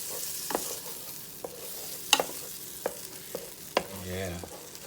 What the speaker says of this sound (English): Put this butter right in there. Just let it just melt all over.